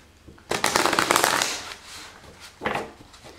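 Tarot cards being shuffled: a longer riffling burst of crisp card flutter, then a second shorter riffle a moment later, close and clear with no talk over it.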